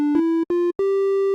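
Triangle wave from a Serum wavetable synth: three sustained electronic tones, the first two short and separated by brief gaps, the last higher and held, clean and alone with no voice.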